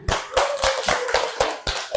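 Classroom of students claps in unison, sharp loud hand claps landing in a quick regular rhythm, about eight beats close by, with a faint voice in the background.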